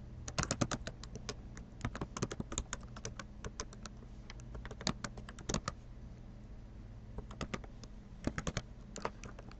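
Steady typing on a computer keyboard while patient demographic information is entered, quick clusters of light key clicks with short pauses between bursts, close and fairly quiet.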